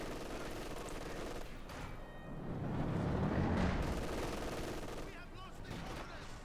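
MG42 machine gun fire in the Company of Heroes 2 strategy game, a dense rattle of bursts and battle noise that swells in the middle, under faint commentary.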